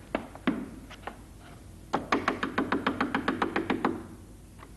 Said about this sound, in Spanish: y le tocamos la puerta a la vieja esa